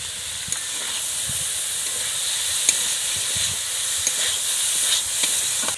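Onions frying in a pan for chicken chow mein give a steady, broad sizzling hiss that holds evenly throughout, with faint scattered crackles and no talking.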